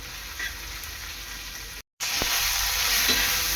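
Paste of ginger, garlic, green chili and coriander sizzling and being stirred in a hot pan, a steady loud frying hiss with a brief cut partway and a few faint scraping touches.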